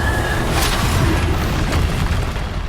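A Bombarda blasting spell explodes in the Hogwarts Legacy video game, a loud deep booming burst that rumbles on heavily throughout.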